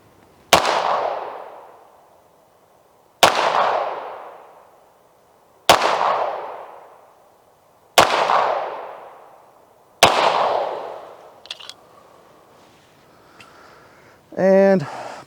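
Five sharp, loud pistol shots from a Beretta 92XI Gara setup firing CCI ammunition, spaced about two to three seconds apart, each with a ringing decay, followed by some faint handling noise and a brief voice at the end.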